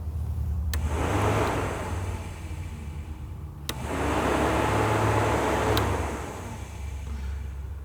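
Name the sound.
electric radiator cooling fans switched on in 1960 Chevy Biscayne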